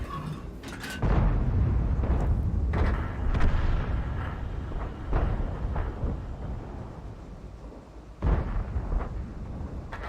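An SU-122 fires its 122mm gun in a tank video game, a deep booming shot followed by a long rumbling roar and a second sharp blast later on.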